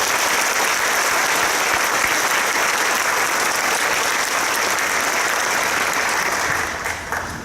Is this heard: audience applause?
yes